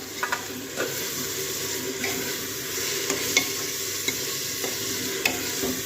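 Chopped tomatoes stir-fried in a pan for an aloo matar curry: a continuous close sizzle with occasional sharp clicks and scrapes of a spoon stirring against the pan.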